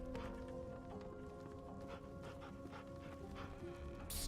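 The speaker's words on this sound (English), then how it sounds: "Damn dog." A dog pants and whimpers faintly in quick, soft repeated breaths, buried under a steady droning background hum with no talk.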